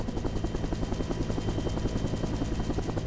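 A military helicopter carrying a Marine Corps high-altitude infiltration team drones steadily in flight, its engine whine and rapid rotor thumping forming a constant, moderately loud noise with no voices.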